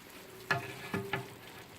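Meat being turned over in its own juices inside a pot, with three short wet scraping, sizzling bursts spaced apart over a low, quiet simmer.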